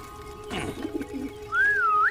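A pigeon coos once near the end, a smooth wavering call after a brief rustle, against a steady low hum.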